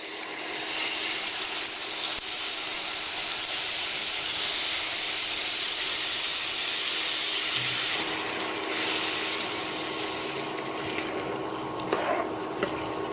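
Tamarind water for tamarind rice paste pours into a hot pan with a loud, sustained hiss and sizzle. The sound gradually softens toward the end. No voices.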